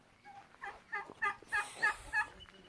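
A male turkey gobbles up close, a rapid bubbling series of loud, rising calls that repeats several times.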